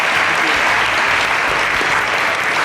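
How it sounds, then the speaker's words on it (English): Studio audience applauding for guest Kunle Coker on a talk show set, a dense, steady wash of clapping at full volume throughout, with no voices breaking through. "Ladies and gentlemen, another round of applause for Mr."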